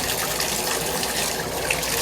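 Hot water gushes steadily from a faucet after a Moen 1222 Posi-Temp cartridge replacement, a close, continuous rushing stream that runs without break.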